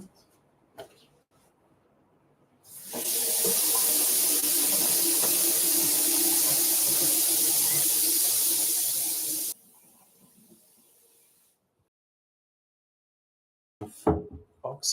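Water gushes steadily from a kitchen tap for about seven seconds, a loud, even hiss that cuts off abruptly, with quiet clinks and faint sounds before and after.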